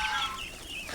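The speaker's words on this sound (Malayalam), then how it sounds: "ഇവിടെ താറാവിൻ്റെ കൂട്ടം പോന്നു. കാണിച്ചു കുഞ്ഞു താറാവുകളാണ്." A flock of ducks with small ducklings gives high, thin peeping calls that overlap in a continuous chorus at close range.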